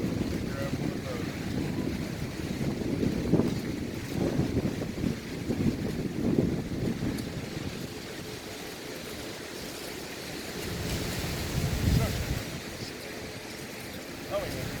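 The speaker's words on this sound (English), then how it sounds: "The wind is horrible." Strong gusting wind buffets a mobile home roof during an outdoor roof repair, a broad continuous roar with rising and falling surges throughout, loud and close to the microphone.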